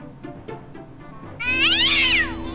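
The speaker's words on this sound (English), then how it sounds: "How did that cat get in there?" A cat meows in the Indiana Jones and the Fate of Atlantis adventure game: after a few soft low sounds, one loud drawn-out wavering meow rings out close and clear, then fades.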